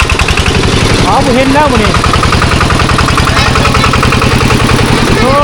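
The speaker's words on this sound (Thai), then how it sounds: "ลูกสาวเจ้าขับรถไถเก่งนี่" A tractor engine chugs steadily and loudly in a village setting, its low rhythmic pulsing continuous throughout. People talk over it.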